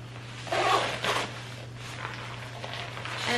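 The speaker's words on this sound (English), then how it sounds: "And I'll zip it up." A Patagonia Torrentshell 3L rain jacket zipped up close by, two quick rasping zipper pulls followed by softer fabric rustling, with no talk and a low steady hum underneath.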